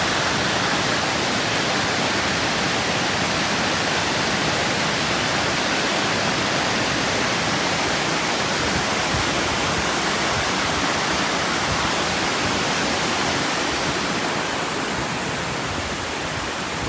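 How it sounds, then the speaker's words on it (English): A loud waterfall at Old Mill Park in Roswell, Georgia roars close by, a dense, steady broadband rush of falling water that holds unbroken and alone for the whole stretch. "Oh man, you can hear that water."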